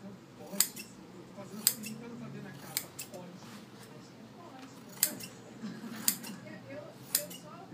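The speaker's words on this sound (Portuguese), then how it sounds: "Aí você vai ter uma tesoura que ela vai cortar ímpeta." Freshly sharpened scissors make crisp metallic snips at irregular intervals, close and distinct above a faint background murmur.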